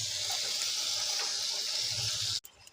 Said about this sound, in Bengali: আমি জল দিলাম